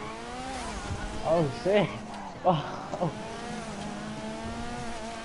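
Engine roar of a fast car in GTA V, with short bursts of revving and tire squeal rising over a steady drone, while players talk and shout excitedly over it.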